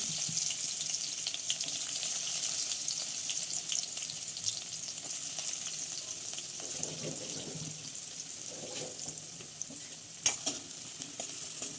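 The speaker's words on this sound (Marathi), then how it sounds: "चांगलं परतून घेऊ कांद्याला" Onion frying in hot oil with mustard seeds and cumin, a steady hiss of sizzling with stirring scrapes throughout and a brief clatter near the end.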